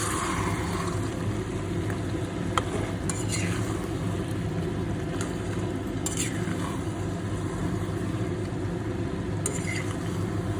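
Chicken and papaya stir-fried with spices in a pan, a low continuous sizzle with occasional spoon and pan clinks and scrapes over a constant background hum.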